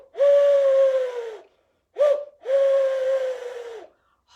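An owl whistle imitating an owl call, giving a long breathy hoot, a brief short note, then another long hoot, each slightly falling in pitch, close and clear against silence.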